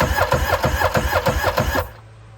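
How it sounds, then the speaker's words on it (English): A 1996 Yamaha Waverunner III engine cranks with the throttle wide open, a loud, close, rhythmic chugging of about a dozen even turns that stops abruptly, leaving a faint hum. "I got the throttle wide open, and I don't know if the cranking speed is fast enough,"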